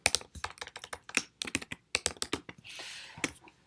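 Fast typing on a computer keyboard, with crisp, close key taps in quick irregular bursts. One brief swipe-like rustle comes near the end, and no voice is heard.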